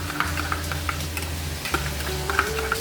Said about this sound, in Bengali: মশলাটাকে আমি ভালো করে মিক্স করে নিচ্ছি